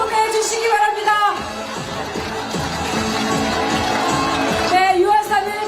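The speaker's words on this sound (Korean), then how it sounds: "여러분, 큰 함성과 박수 보내주시기 바랍니다." A large outdoor crowd at a presidential campaign rally in a Seoul station plaza cheers, shouts and claps loudly, with a continuous roar of voices and whoops swelling at the start and end.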